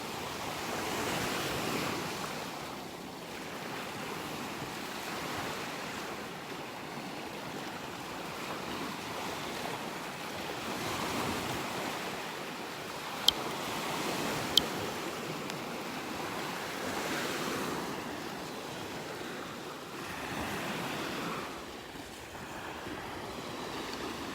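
Ocean waves wash onto a beach in North Naples, Florida, in a steady, fairly loud surf roar that swells and eases, with some wind buffeting the microphone and two brief clicks.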